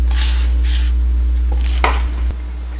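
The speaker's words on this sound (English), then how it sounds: "to a cutting board and cut it in wedges" Knife slicing grilled tortillas into wedges on a cutting board, a few scattered firm cuts and taps, with a sharper chop near the end over steady low kitchen hum.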